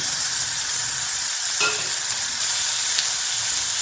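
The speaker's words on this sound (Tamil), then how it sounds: "கருவேப்பிலை வருது. இது நல்லா வதங்கட்டும்." Onions and curry leaves sauté in a pan for a Tamil karisalankanni kurma, giving a steady, close sizzle and hiss throughout with a brief stir or clink midway and no talking.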